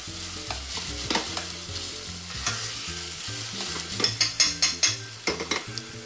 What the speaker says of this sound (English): sofrito is working along nicely. Our tomatoes are really starting to sweat.